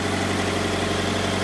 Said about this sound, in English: I'll start the engine so it gets hot